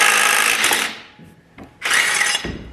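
An impact wrench fitted with an impact-rated socket works a bolt off an abandoned truck during a 5.7L Hemi Magnum swap. Two loud, close bursts of whirring and hammering are separated by a short pause.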